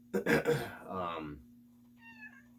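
A cat meows a few times close by, with a person talking over and after the calls against a steady low background hum.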